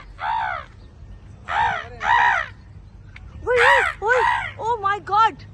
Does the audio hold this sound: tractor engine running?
no